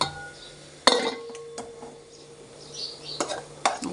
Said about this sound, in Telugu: స్టవ్ ఆఫ్ చేసేసి సర్వింగ్ బౌల్లోకి తీసుకుంటున్నాను నేను